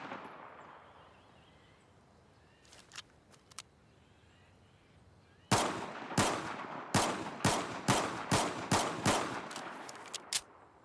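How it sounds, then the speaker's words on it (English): An M1911 pistol firing in Battlefield 4, a run of about a dozen sharp, snare-like shots, a few scattered ones first, then a quick steady volley, close and loud with a faint background hiss. "The BF4 shooting sounds a lot like a drum snare, which is pretty common for most BF4 pistols."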